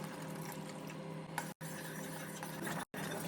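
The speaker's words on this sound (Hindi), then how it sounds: "कस्टर्ड हमारा घुल चुका है, अब डाल देंगे इसको दूध में।" Dissolved custard poured into hot milk in a pan and stirred, a quiet steady liquid swish and scrape with a couple of brief cuts to silence, no talking.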